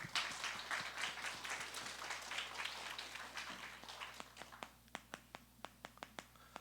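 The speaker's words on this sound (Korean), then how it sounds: "우리 좀 더 크게 하나님께 영광의 박수를 올려드립시다" Congregation applauding during a Korean church worship service, a dense clapping wash that fades and thins into a few scattered, separate claps at the end.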